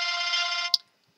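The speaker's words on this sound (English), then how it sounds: "my phone is ringing." A phone ringtone plays loudly and steadily as a sustained electronic melody, then stops abruptly with a short click, followed by near silence.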